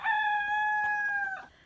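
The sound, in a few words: rooster crowing on an Italian countryside farm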